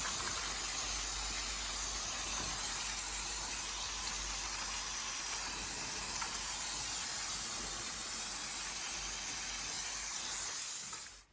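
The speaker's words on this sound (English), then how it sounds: "So now brake cleaner to clean everything before disassembling." Brake cleaner sprays from an aerosol can onto KTM 300 TPI engine parts, a loud, continuous hissing jet close to the microphone that lasts about eleven seconds before cutting off abruptly.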